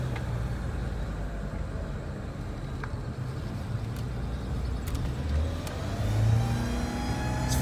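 Car engine held at full throttle, a sustained droning roar that climbs slightly in pitch and loudness toward the end, with faint clicks and rattles over it.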